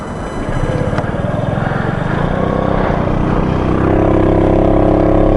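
A Honda Ruckus 49cc scooter engine held at wide open throttle runs with a loud, buzzy, continuous drone whose pitch climbs slightly toward the end, close by and without speech.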